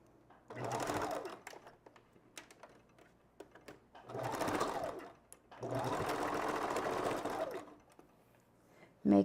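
A sewing machine stitches a V-part wig in three bursts of a few seconds each, with quiet gaps between them while the backstitching is done. A sharp click comes at the end.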